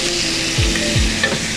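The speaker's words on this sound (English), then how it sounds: "Then I'm gonna add a bit of garlic." Garlic sizzling loudly in a pan of oil for a Mazatlecan pasta dish, a continuous close hiss with a couple of dull knocks from the pan, no talking.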